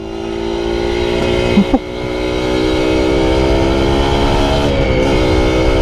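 An old Honda Nova Dash SP1 motorcycle engine revs loudly and close, holding a high whining pitch with a couple of sharp jumps as the clutch slips; a brief word is spoken.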